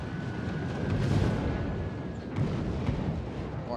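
Mortar and artillery fire rumbles through a Total War Warhammer battle, a dense continuous barrage of booms with a louder burst near the middle and another shortly after, over a steady roar of battlefield noise.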